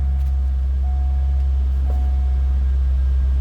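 A 2004 Chevrolet Corvette convertible's LS1 5.7-liter V8 idles with a steady, deep, even rumble that holds constant throughout, close and alone.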